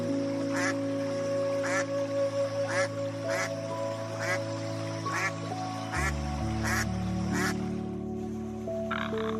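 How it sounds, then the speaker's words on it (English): A duck quacks in a regular series of about a dozen sharp, nasal calls, fairly close, over a steady low drone, with a pause and a fainter call near the end. "Duck"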